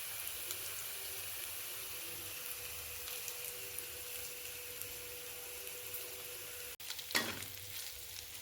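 A soft, steady sizzle of curry leaves sautéing in hot oil runs throughout, with a brief clatter near the end.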